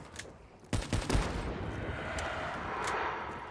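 Drakon semi-auto sniper rifle shots in Black Ops 3 Zombies, a few sharp cracks close together with echoing tails over a dense, noisy game background.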